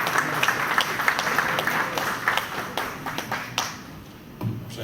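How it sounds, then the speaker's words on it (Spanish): Audience applause at a conference session introducing a doctor's talk on foresight and future society, a moderate crowd clapping steadily and fading toward the end. "Un fuerte aplauso para que dé inicio su doctor"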